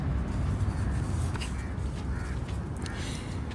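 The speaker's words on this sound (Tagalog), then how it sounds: "Nadidinig nyo din ba ang mga huni ng ibon?" Birds call outdoors at a scenic viewpoint, with a few faint high chirps and caws over a steady, loud wash of background noise, and no talk.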